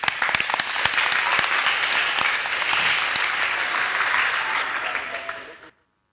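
Audience applause fills a public speaking contest hall as a volunteer is welcomed onstage for a chess demonstration; steady, dense clapping holds at full strength for about five seconds, then cuts off abruptly.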